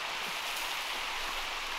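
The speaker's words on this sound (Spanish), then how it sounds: "Ya nos cogió la lluvia también." Rain falling outdoors on a hillside during an open-air chicken roast, a steady dense hiss at low volume with no talk.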